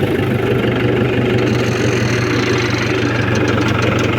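Tractor engine pulling a rotavator through a field, a steady, loud, low mechanical drone with a rapid knocking rhythm and no talk.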